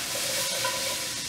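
Ground pork sizzling as it goes into a hot pan beside vegetables, a close steady hiss and crackle for a brief moment.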